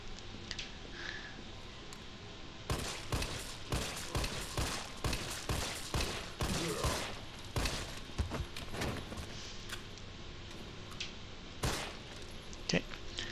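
Handgun shots in a Resident Evil game set in Raccoon City, a run of sharp cracks in irregular bursts through the middle, some close together, over a steady low ambient bed with a voice talking at times.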